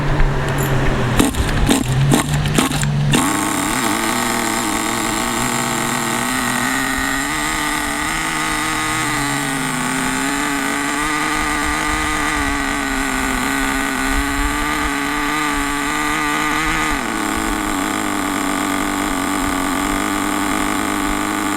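Nitro engine of a 1966 Mustang RC car idling during break-in, a steady buzzing drone that is loud and close, with a few sharp revs and rattles at the start, then a continuous idle that shifts pitch slightly near the end.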